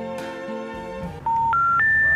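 Telephone keypad dial tones sound as a number is entered: three short, clear DTMF beeps in quick succession, following a brief stretch of faint background music.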